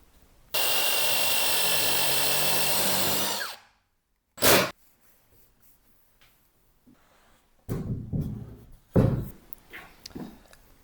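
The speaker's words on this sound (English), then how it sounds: "I'm going to do is plunge the router so the bit is touching the workbench in the lowest corner" A plunge router cuts into a wooden workbench surface, a loud, steady high-pitched whine for about three seconds, then brief bursts of cutting and handling noise.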